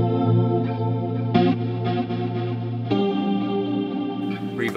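Sustained electric guitar chords through an Axe-Fx with quad tap delay, chorus, multi-band compressor and studio reverb, washed in chorus shimmer, with echoing repeats and a spacious reverb tail as new strums ring in.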